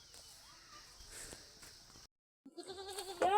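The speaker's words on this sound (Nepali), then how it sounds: "हाम्रो घरको बाख्रा देखाउनु राम्रो छ।" A goat bleats briefly at a rural home, a short, close cry near the end that follows quiet rustling and footsteps and a moment of silence.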